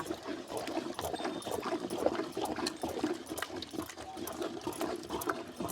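Batter being poured into boiling water in a pot and stirred, a steady bubbling, sloshing wash of water sound, close and continuous.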